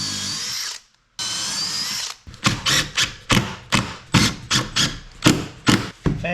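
Power drill driving wood screws into a wooden boat bulkhead: a long whine, a short pause, then a rapid series of about ten repeated bursts as screws bite in, loud and close.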